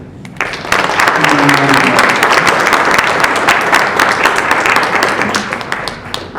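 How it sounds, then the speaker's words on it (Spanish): An audience at a book presentation breaks into sustained applause for a speaker, many hands clapping in a full, even wash that holds for several seconds and then begins to thin. "Les pido un aplauso para nuestro querido"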